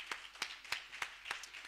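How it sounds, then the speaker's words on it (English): Scattered claps welcoming the crew from Elephant Hills Hotel at a summit's opening session: a few sharp, evenly spaced hand claps, fairly close and distinct, rather than a full crowd roar. "you have to keep clapping until they get up here"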